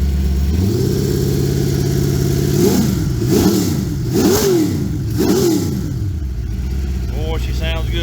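A freshly rebuilt Chevrolet LT1 V8 idles steadily nearby, then rises and falls through several quick throttle blips with a rumbling exhaust, its sound loud and close throughout.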